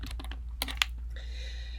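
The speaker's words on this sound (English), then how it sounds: "So you simply just start typing in names." Names being typed on a computer keyboard: soft, quiet, irregular key clicks with a couple of sharper taps, over a low steady hum in an office setting.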